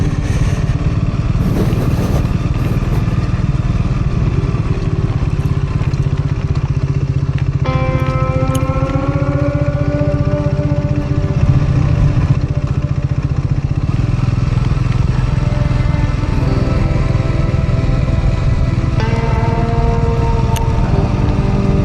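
An off-road motorcycle rides down a steep Utah canyon, its engine droning steadily up close with rising and falling revs partway through, all under constant wind noise.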